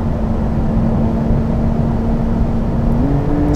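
2023 Porsche 911 Carrera GTS Cabriolet engine held at half throttle, a steady loud drone with a pitch that rises slightly near the end, heard alone.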